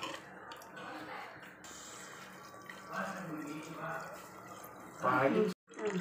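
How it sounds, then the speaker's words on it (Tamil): Water is poured into a pot of mutton curry during cooking, a steady trickling and splashing that runs under continuous talking and ends with a brief louder burst. "இப்போ நம்ம தேவையான அளவு தண்ணி சேர்த்துக்கலாம்"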